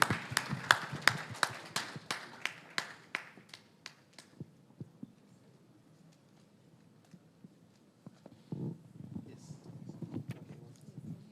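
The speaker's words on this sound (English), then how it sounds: "a round of applause for Ambassador" A short burst of audience clapping for an ambassador at a youth democracy forum, a handful of sharp claps fading within about four seconds, followed by quiet room noise and faint movement.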